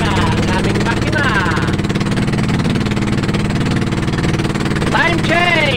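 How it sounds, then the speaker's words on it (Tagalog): A misfiring outboard engine on a small fishing boat sputters in a fast, uneven chug, loud and close, while people talk over it. "Mapalya ang aming makina."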